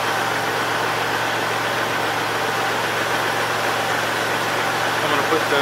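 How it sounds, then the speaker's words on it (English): A tractor engine idles at very low revs with a PTO-driven hydraulic pump running, giving a steady, close mechanical drone with a faint vibration and no clear talking over it. "I've got the tractor running super low so you can hear me better."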